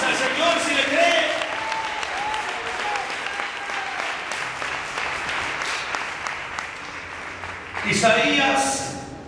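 A church congregation clapping during a thanksgiving service, steady applause from many people with voices and sung or spoken tones mixed in, swelling again louder near the end.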